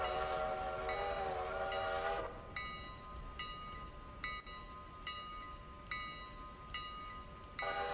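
A train runs in the railroad video game Railroader, opening with a loud sustained horn blast, then a steady rumble marked by repeated rhythmic clanks of wheels over rail joints, with the horn returning briefly at the end.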